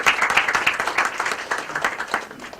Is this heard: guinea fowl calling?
no